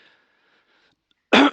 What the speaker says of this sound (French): Désolé, je tousse